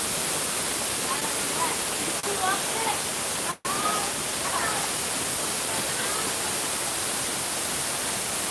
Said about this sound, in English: It's not getting so spray comes on you here from the waterfall on a hot day.